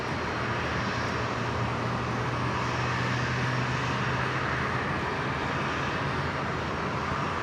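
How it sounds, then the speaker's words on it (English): Alliance Fokker 100 airliner departing Brisbane International Airport, a steady, broad jet engine roar that holds evenly at moderate distance throughout, with no voices. "Next departure, the Alliance Fokker 100."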